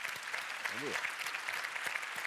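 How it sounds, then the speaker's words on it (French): A morning audience at a school-inclusion event claps in a soft, scattered way, light and somewhat distant, while a voice briefly speaks over it. "allez, on applaudit."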